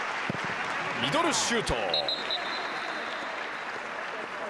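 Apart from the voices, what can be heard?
stadium supporters applauding at football match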